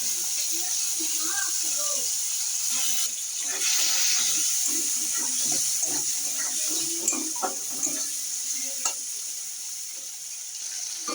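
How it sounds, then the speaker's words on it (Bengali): Prawns frying in a wok with a little turmeric, a steady broadband sizzle running throughout with scattered clicks and spatters, close and moderately loud. "এই চিংড়ি মাছ ভেজে নেবো আমি চিংড়ি মাছটা"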